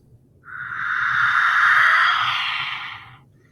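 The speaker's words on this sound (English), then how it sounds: "This is a handmade whistle I got in Mexico." A handmade whistle from Mexico is blown in one steady, breathy, airy tone lasting about two and a half seconds, rising gently and then fading, heard up close and alone.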